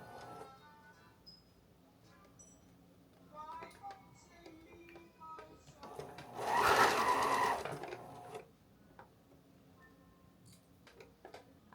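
A sewing machine runs in one steady buzzing burst of about two seconds while stitching fabric for a flow arts prop, with quiet rustling and scattered clicks before and after.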